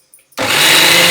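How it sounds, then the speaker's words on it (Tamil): After a short quiet moment, a mixer grinder kicks on abruptly, grinding ingredients with water in a loud, steady whirring roar that continues to the end. "இதில் தண்ணி விட்டு அரைச்சிப்போம்."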